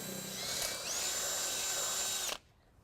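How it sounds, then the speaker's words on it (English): A power drill bores a pilot hole into the frame of a 2018 Ford Focus for a trailer hitch, a steady high whine that shifts pitch partway through, then stops abruptly into quiet. "We're going to start out by drilling our pilot hole."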